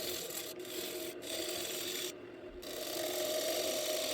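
Bowl gouge hollowing out a maple platter on a wood lathe, giving a continuous rough scraping, rasping cut with a few brief breaks, steady and close.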